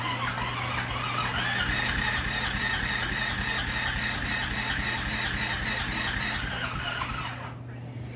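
A car engine with a choke cranks repeatedly without catching because it is not getting fuel, making a loud, continuous whirring starter drone with a squealing edge that cuts off near the end.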